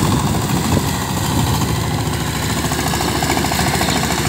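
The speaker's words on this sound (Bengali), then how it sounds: "18 ব্লেডের পাওয়ার টিলার।" A Sifang 20HP diesel engine drives an 18-blade power tiller ploughing a waterlogged field. It makes a loud, continuous, rattling engine drone with a close, steady vibrating chug throughout.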